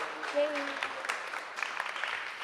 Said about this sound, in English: So let's give us a round of applause